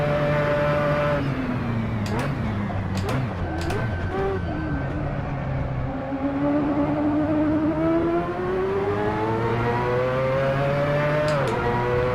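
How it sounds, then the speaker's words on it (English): A racing car engine in the Assetto Corsa video game drones and revs continuously during a Le Mans race, pitch rising and falling through gear changes, loud and close, with brief whooshes of other cars passing. "I just hear a car behind me."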